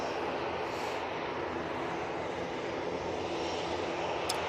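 A Ryanair jet comes down to land at Manchester Airport, a faint, steady engine rush at some distance that stays even throughout with no voices.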